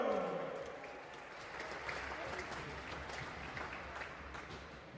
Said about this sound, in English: Can we have a round of applause for the Junior A runners-up, the Junior A Inferno?